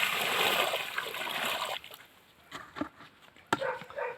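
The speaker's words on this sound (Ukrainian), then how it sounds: "Вливаємо ще частину водички." Water pours into the planting hole of a fruit tree, a steady splashing gush for almost two seconds, then a few scattered drips and small splashes as the flow stops.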